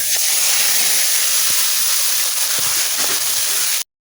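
Water is poured into a hot pan of fried onions and garlic with whole cumin, setting off a loud, steady, close hiss of steam that holds and then cuts off abruptly.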